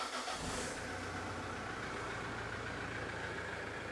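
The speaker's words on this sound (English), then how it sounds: "So yeah, let's start the car." A Mitsubishi Pajero engine cranks and catches at the start, then settles into a steady, fairly quiet idle for several seconds.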